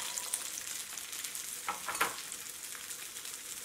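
Chana frying in hot oil on medium heat, a soft, even sizzle throughout with a couple of faint stirring scrapes near the middle, no voices.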